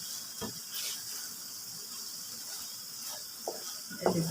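Chicken liver fries in a hot pan with a constant hissing sizzle, close and moderately loud, broken by a few scraping stirs and clinks of a utensil, with a louder stir near the end.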